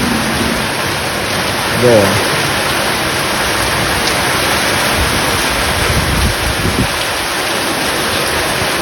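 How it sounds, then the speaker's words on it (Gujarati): Heavy rain pours onto a farm field as a dense, continuous roar that is loud and near. Someone speaks briefly over the downpour. "ભાઈ વરસાદ આવી ગયો જોરદાર, જોઈ લો"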